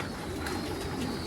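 A small racing pigeon coos softly while being held in someone's hands, a low, steady, murmuring call running throughout over a faint background hum.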